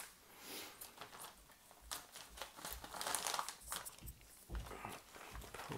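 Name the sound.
cutting open a plastic bag of RC truck chassis parts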